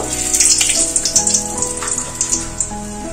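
Three small dried red chillies and two bay leaves hit hot mustard oil in a kadai, setting off a loud, close crackling sizzle of dense spitting bursts that settles into steadier frying, with no voices.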